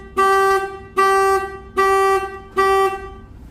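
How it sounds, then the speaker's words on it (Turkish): The original car alarm of a 2017 Renault Megane 4 blares in four identical honking blasts, evenly spaced and loud, with brief pauses between them. "Orijinal alarmı test ediyoruz."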